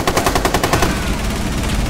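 Rapid automatic gunfire in Rainbow Six Siege, a loud burst of closely spaced shots during a team deathmatch on the Chalet map, then a dense rattling wash of game noise.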